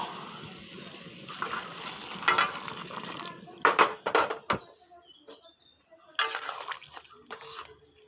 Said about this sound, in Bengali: সবজিগুলো ভাজা হয়ে গেছে। এবার আমি গরম জল অ্যাড করে দেব।